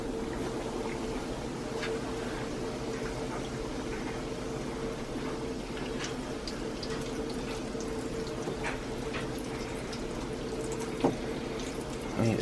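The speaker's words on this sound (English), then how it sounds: "I'm gonna drop this guy right into the oil." Chicken fries in oil in a cast iron pan, giving a steady, soft sizzle with scattered small pops and crackles throughout.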